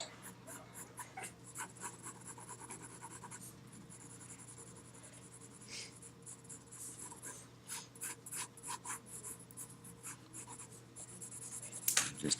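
Pencil shading on paper while drawing a donut: soft, steady scratchy strokes in repeated back-and-forth bursts, close and quiet, with no talking.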